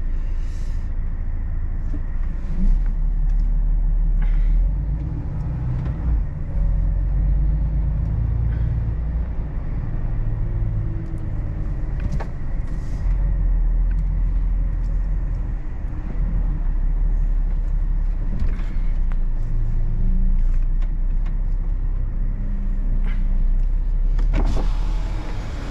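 A car drives along the road with a steady low engine hum and road rumble, heard from inside the cabin, constant and moderately loud with small bumps and no talk.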